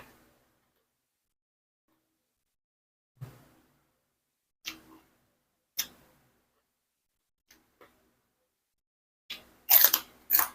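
Crunchy bitter gourd is chewed close by in a quiet room, a few sparse crisp bites spaced seconds apart, growing louder and faster into a burst of crunching at the end.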